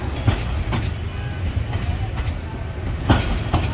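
A moving train rumbles steadily on its rails, heard loud and close from on board, with a constant low roar broken by periodic clacks of the wheels over rail joints.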